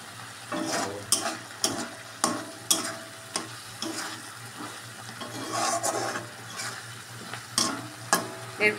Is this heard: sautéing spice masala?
yes